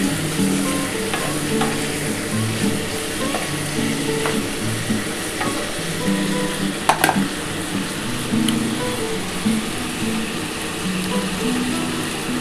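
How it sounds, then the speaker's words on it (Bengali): Mutton pieces frying with ginger and garlic in a pot, a steady close sizzle with occasional stirring clatter and no talking throughout. "আমি কিন্তু আদা আর রসুনের সাথে আগে মটনটা একটু হালকা করে ভেজে নিলাম"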